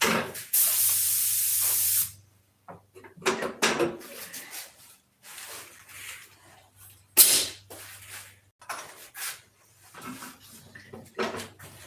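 A spray gun sprays clear coat in a heated paint shop, a loud steady hiss for about two seconds and then a second burst, with clunks and handling noises between.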